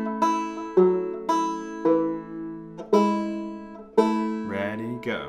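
Two-finger banjo picks a tag from the fiddle tune June Apple, with bright plucked notes ringing in a steady rhythm for several measures and a strummed flourish near the end, played alone.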